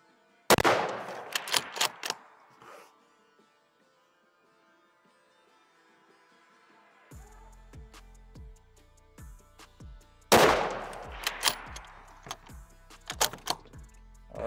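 A Ruger Precision Rifle in 6.5mm Creedmoor fires sharp shots in two bursts of loud cracks separated by a quieter stretch of background music, with no talking.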